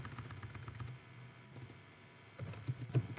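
Keys clatter on a computer keyboard as a pip install command is typed, with a burst of quick taps, a short pause, then a louder flurry of keystrokes near the end.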